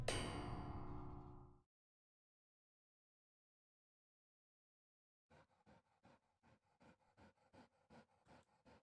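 A dog chases the player in a horror video game, with rapid rhythmic panting breaths coming in regular pulses after a loud clanging impact and a long silence.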